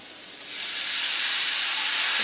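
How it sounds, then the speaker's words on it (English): Vegetables and chicken for lettuce wraps sizzle in a hot pan with a steady, broad hiss that builds over the first half second, then holds loud and even. "you can hear the sizzle"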